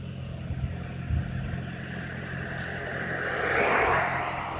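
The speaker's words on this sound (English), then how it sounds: "You see how many cars come up and down this road?" A car drives along a residential road, a low hum that swells as it approaches and passes at moderate distance, with no talk.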